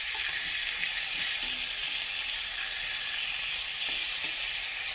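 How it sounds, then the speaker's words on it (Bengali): Fish bhapa being stirred in a pan, giving a dense, continuous sizzling hiss close up. Faint scraping stir sounds show through, and no one talks. "এদিকে এবার আমি এক দুবার একটু নাড়াচাড়া করে দেব।"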